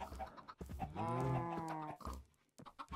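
A video game sheep lets out a clear, drawn-out bleat lasting about a second, with softer animal sounds on either side and no talking.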